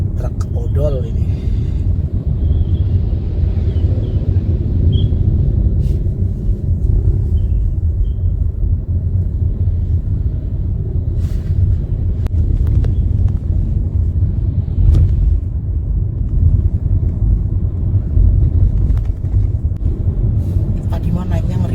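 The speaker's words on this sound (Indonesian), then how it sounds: "Jadi ada truk odol ini" Overloaded truck grinding up a steep mountain pass in rain and wind, a heavy continuous low engine rumble heard from inside a following vehicle, with faint intermittent voices.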